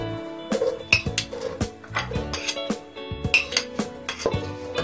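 Onions go into oil in a pan and are stirred, giving a close series of metallic clinks and scrapes of a utensil against the pan in an uneven rhythm.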